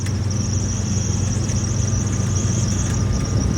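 Volvo Penta D4 260HP diesel in a Jeanneau Leader 805 boat, running at full throttle around 3700 RPM: a loud, steady, unbroken engine drone with a high whine on top, close and constant throughout.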